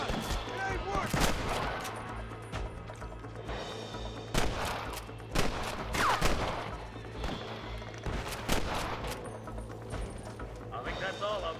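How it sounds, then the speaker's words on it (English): Scattered gunshots from a Red Dead Redemption gunfight, sharp cracks spaced irregularly across the span at moderate loudness, with voices speaking between the shots. "I think that's all of them. Fine shooting, boys."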